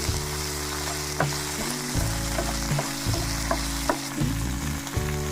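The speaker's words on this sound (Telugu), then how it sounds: "ఒక పావు టీ స్పూన్ జీలకర్ర కొంచెం కొద్దిగా మగ్గే వరకు మగ్గించుకుంది" Cumin seeds fry in a pan for a raw tamarind chutney, giving a loud, steady sizzle with a low hum beneath and occasional soft clinks of stirring. No one speaks.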